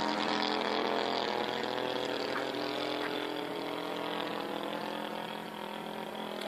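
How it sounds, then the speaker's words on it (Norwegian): A small engine runs with its choke on, a steady close drone with a strong low hum that holds for the whole stretch and eases slightly near the end. "Du hører, motoren går ikke rent."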